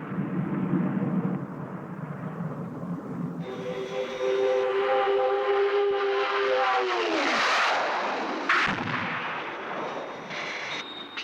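Aircraft gunfire during a dummy attack in the 1967 Captain Scarlet and the Mysterons series: a sustained loud burst of firing over a roaring engine whose pitch sweeps downward as the plane passes.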